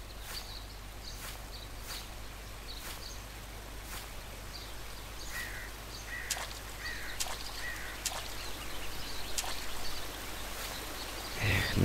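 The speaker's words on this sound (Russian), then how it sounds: "Водопад, вот он, водопад." A waterfall in the horror video game Rake gives a steady, moderately loud rush of falling water, with scattered bird chirps over it throughout and no voices.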